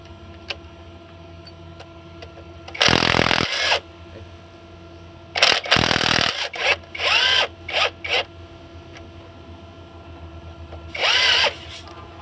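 A power drill driving out a stubborn screw, whirring in loud near bursts of one to two seconds each, five or six separate runs with quiet pauses and faint clicks between them.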